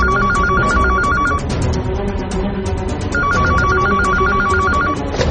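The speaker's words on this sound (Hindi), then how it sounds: "कि तभी उसका इंटरकॉम बजा।" An intercom rings in two long electronic trilling bursts, loud and close, with a short pause between them, over a steady background hum.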